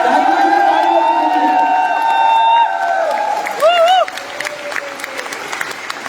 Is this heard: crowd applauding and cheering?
yes